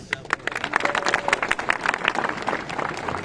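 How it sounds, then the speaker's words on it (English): A school chapel audience at an Alliance High School alumni cohort gathering claps for the Acrosians, dense, steady applause from a crowd filling the room for a few seconds. "Can you clap for the Acrosians?"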